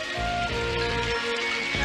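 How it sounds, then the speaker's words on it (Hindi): Cartoon rain begins to fall, a steady hiss of drops spread evenly across the short stretch with a low background hum, no talk heard. "बारिश शुरू हो गई।"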